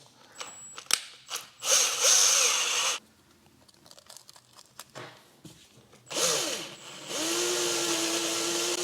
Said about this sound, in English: While sanding, be careful not to overheat the part because you don't want to melt the part, you want to sand it.